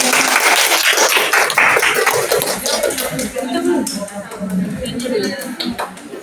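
A classroom audience claps after a student presentation with quick, dense applause that thins out over a few seconds while voices talk over it.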